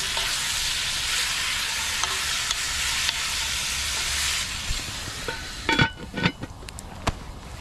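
Beef stew with potatoes and carrots cooks in a Dutch oven over a snowy winter campfire, sending up a steady broad hiss that fades after a few seconds into quieter sputters and scattered crackling pops.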